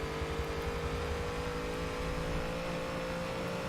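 A Model A Deuce Coupe race car in Forza Motorsport 7 screams down a straight, its engine holding a steady, loud, buzzy drone at high revs, close and continuous without shifts or any voices.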